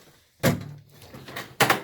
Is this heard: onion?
no